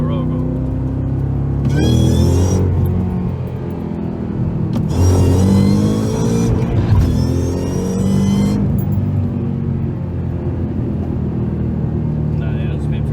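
Shelby GT500 on Weld S-71 wheels and drag radials hit hard from a roll, the engine roaring up through loud surging bursts with brief shifts between them, people talking over it inside the car.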